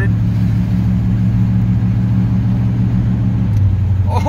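A 1972 GMC truck with a rebuilt Turbo 350 automatic transmission drives under a steady, loud low engine drone, with a shift change near the end as the tone drops; a voice comments briefly over it.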